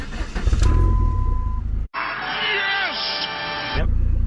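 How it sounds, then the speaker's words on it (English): A Dodge Neon SRT-4 cranks and catches after a check-engine TPS fault, the engine settling into a steady idle close by, with a person speaking over it. "So let's just start the car."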